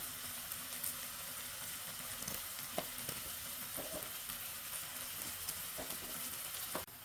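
Onions frying in a pan with salt make a continuous sizzle, broken by occasional spatula scrapes and taps against the pan over about seven seconds, with no talking.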